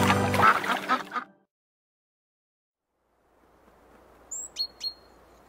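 Ducks quack in an Indonesian children's cartoon song, a couple of short, faint calls late in the clip over soft background hiss, after a loud burst of sound at the start and a stretch of silence.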